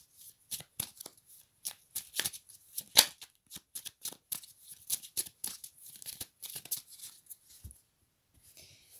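Oracle cards being shuffled and cut by hand in a quiet room, a long run of crisp, close riffling bursts and soft slaps with brief pauses, fading to light handling at the end.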